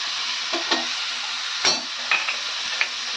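Brinjal and spices sauté in oil in a pan for a traditional Tamil ennai kathirikai curry, a steady sizzle broken by a few soft stirring scrapes of a spoon.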